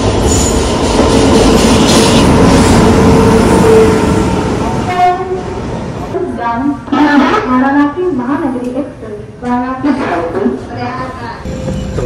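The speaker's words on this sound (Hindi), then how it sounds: "ट्रेन आने ही वाली है, मैं अंदर चढ़ जाता हूँ" A train pulls into a station with a loud rushing rumble that fades, then wheels squeal and screech repeatedly as it slows, with voices and crowd noise around the platform.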